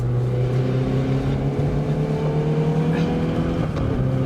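Hyundai i20N hot hatch on a race track, engine note steady and loud throughout as the driver short shifts, a continuous droning hum with a brief dip near the end.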